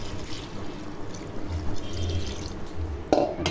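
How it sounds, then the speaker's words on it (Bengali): Water poured into a cooking curry of katla fish with drumstick stems, potato and ridge gourd, a steady liquid pour running under a low background hum for a few seconds, with a brief louder splash near the end. "এখন পরিমাণ মতো পানি দিয়ে দিব।"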